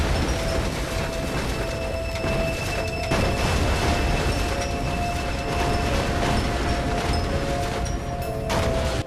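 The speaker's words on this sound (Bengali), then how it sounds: "ট্রেনটা কিন্তু সত্যি সত্যি একা একাই চলতে শুরু করেছে, আর ট্রেনটার গতিবেগ ক্রমশ বেড়েই চলেছে।" A ghost train in the Indian Bike Driving video game speeds and crashes through spawned cars, a dense, continuous rumble and clatter with steady tones and bursts of impact noise.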